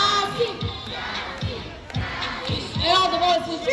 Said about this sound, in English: All the girls who cheer for Sassy. Come on, girls, let me say Sassy, Sassy.